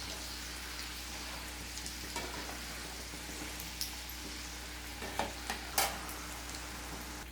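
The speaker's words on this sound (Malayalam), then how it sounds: "അങ്ങനെ തിരിച്ചും മറിച്ചിട്ടിട്ട് നമുക്ക് നന്നായിട്ട് ഫ്രൈ ചെയ്തെടുക്കാം." Vegetable samosas fry in oil with a low, even sizzle, and a few soft clicks and splashes come near the end as they are turned over.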